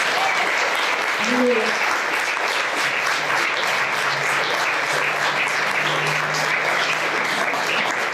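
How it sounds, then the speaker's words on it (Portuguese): A church congregation claps for Jesus in steady, sustained applause, loud and continuous, with a voice briefly heard over it. "Vamos dar uma salva de palmas para Jesus"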